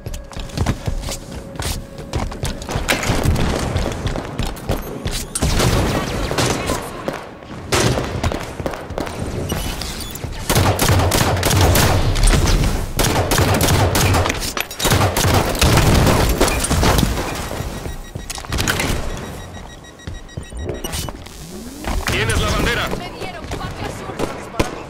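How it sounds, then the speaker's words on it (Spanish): Rapid gunfire and explosive booms from the video game Halo 5: Guardians during a King of the Hill arena match, dense and continuous with bursts and blasts layered under frequent game voice callouts. "¡Están disparando! ¡Francotirador enemigo!"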